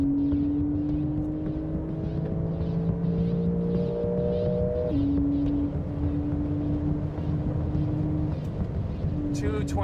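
A 2020 Porsche 911 accelerates down a racetrack's front straight, its engine a steady in-car drone with tones that climb and then drop at a gear change before climbing again, with a voice talking over it.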